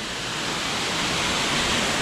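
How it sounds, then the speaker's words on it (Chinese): Waterfall in wooded hills near a former prison villa in Chongqing, a steady broadband rushing roar that stays constant and fairly loud throughout. "还有瀑布呢"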